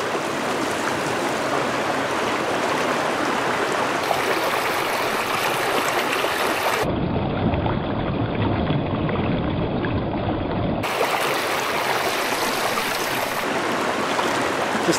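A small trout stream in Pennsylvania flows and rushes continuously, a loud, broadband watery roar that stays steady for the whole stretch with no voices.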